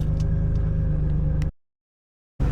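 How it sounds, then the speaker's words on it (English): An Acura NSX engine idles steadily after an iBooster swap, a close, even low rumble for about a second and a half before cutting to silence, then resuming at the very end. "It's actually idling pretty decent now that we got the valve set up, the idle valve set up pretty good."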